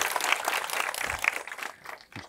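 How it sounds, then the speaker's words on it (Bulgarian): Short, uneven applause for an astrophysicist guest at a Bulgarian science talk, a small audience clapping raggedly for about two seconds before it quickly dies away. "аплодисменти за нея"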